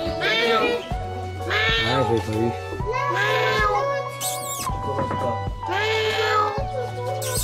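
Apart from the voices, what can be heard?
cat meowing at a zoo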